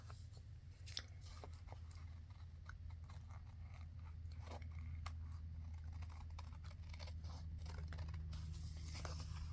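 Paper card for a fold-out journal being trimmed: faint, scattered snipping clicks over a steady low background hum, with no talking.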